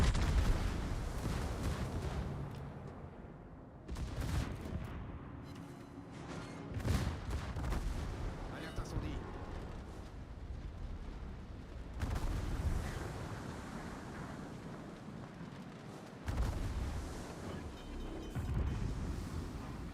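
Naval gunfire from the video game World of Warships, with the battleship Des Moines among the ships: repeated heavy, booming salvos at irregular intervals, each followed by a rolling rumble, heard fairly quietly with no talk.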